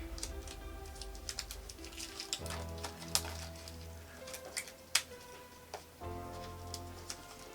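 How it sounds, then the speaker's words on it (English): Plastic wrap on an Apple AirPods Pro box is pulled off by its tear tab, giving close, crisp crackles and scattered sharp ticks over a low steady hum, with no one talking. "Right now we have the pull tab that allows you to unwrap their products"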